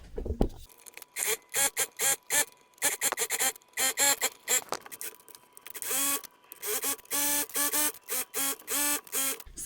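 Close sewing machine stitching a tote bag's lining in repeated short runs, each a fast mechanical whirring burst separated by brief pauses, with no talking.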